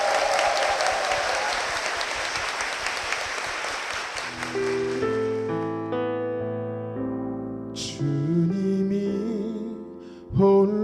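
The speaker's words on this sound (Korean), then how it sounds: "우리 권사님 두 분과 사모님을 위해서 힘찬 축복의 박수" A church congregation claps in hearty applause as a blessing for two deaconesses and the pastor's wife, dense and steady for about four seconds before a sustained piano and organ accompaniment for a hymn takes over and the clapping fades.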